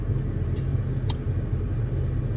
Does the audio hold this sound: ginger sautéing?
no